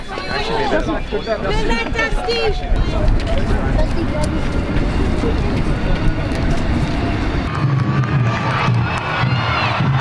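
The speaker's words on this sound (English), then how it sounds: "Martin from 50, the crowd lights up" A stadium crowd at an AFL football game roars and cheers in a loud, dense wash, with a commentator talking over it.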